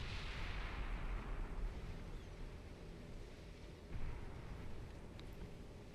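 Battlecruiser 14-inch naval guns firing in the video game Ultimate Admiral Dreadnoughts, a deep rumbling boom that rolls off slowly, then a second thump a few seconds later, with no talk.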